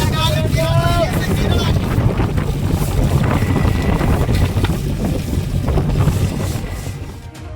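A fishing trawler at sea during hilsa fishing in Bangladesh, with a steady low engine drone and heavy wind rush across the microphone, loud and continuous. A few brief tonal squeals sound early on, and the noise fades slightly at the end.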